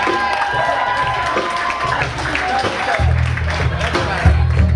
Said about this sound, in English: Everyone, please give a round of applause for El Quinto's string backgrounds.